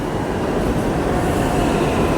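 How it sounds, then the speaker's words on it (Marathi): A Delhi metro train rolls into the platform with a steady, loud, continuous rumble of wheels and cars running close by, with no voices over it. "ही आली आपली मेट्रो."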